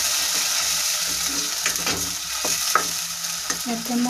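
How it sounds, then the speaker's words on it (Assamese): Spice paste for a raw banana curry fries in a hot pan with a loud, continuous sizzle, while a spoon scrapes and stirs the pan at irregular moments. "এইখিনি অকণমান সময় ভাজিব লাগিব।"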